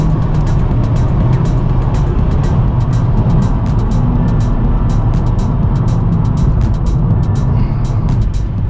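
Inside a VW Golf GTI Mk7.5 Performance on the move, a loud, steady engine and intake drone fills the cabin, layered with road rumble and faint high ticking, no talk.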